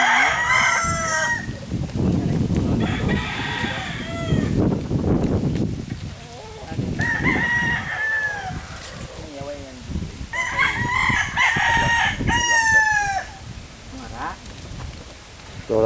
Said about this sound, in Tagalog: Ito natin sila mga manok ng mga stag.